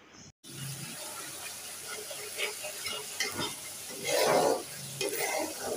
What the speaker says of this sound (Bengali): এখানে মশলা কষিয়ে নিচ্ছি